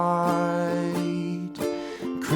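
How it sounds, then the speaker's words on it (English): Ukulele strumming pattern for a song, several quick rhythmic strokes over ringing chords, fairly close and alone. "you can start playing this strumming pattern"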